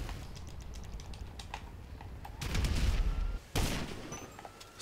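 Gunfire in GTA Online rings out in sharp cracks and bursts, broken up by rapid keyboard clicking, with a louder cluster of shots in the middle and another near the end.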